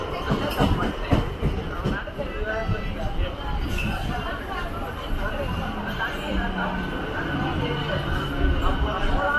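A Chennai Beach to Tambaram EMU local train runs with a steady rumble and rattle of the carriages, heard from inside the coach, while passengers talk in a murmur beneath it.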